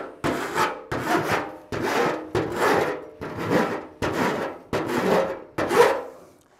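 A hand file rasps along the sharp edges of a metal patch panel for a Tri-Five Chevy fender headlight area, with eight steady, close forward strokes separated by brief pauses.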